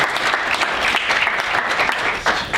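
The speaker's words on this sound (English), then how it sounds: "Applause for the volunteers." An audience at a board game convention applauds volunteers with a burst of brisk, dense clapping that holds steady and fairly loud for a couple of seconds.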